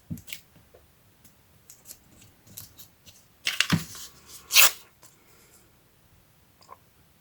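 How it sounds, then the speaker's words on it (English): Scissors cut craft paper while a journal cover is being made, giving scattered snips and crisp paper rustles that grow into a couple of louder, close cuts midway, with nobody speaking. "I'm going to cut my paper in"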